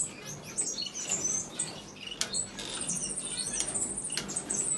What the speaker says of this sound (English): Also some diamond firetails, zebra finch, Cuban finch.